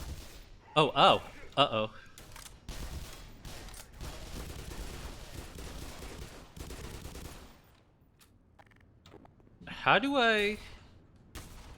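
Turret gunfire in Black Mesa crackles in a sustained burst through the middle, between two short spoken exclamations from a player.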